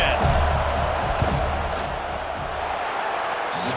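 A stadium crowd in College Football 26 roars steadily and loudly during a field goal attempt, with a dense wash of cheering and yelling from start to finish.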